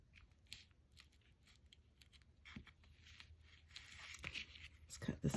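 Scissors snip through a paper bookmark in quiet, close cuts that grow louder and more frequent toward the end.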